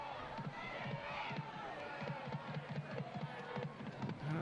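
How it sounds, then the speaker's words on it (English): Home supporters at an Adelaide United versus Perth Glory A-League football match cheer and roar steadily, a dense continuous crowd din with rhythmic chanting pulses throughout. "Adelaide fans doing everything they can to urge the home team on"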